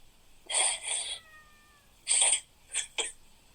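A house cat meows several times in a quiet indoor room, with two drawn-out cries followed by a pause, then a louder meow and two short, clipped ones, heard close and alone.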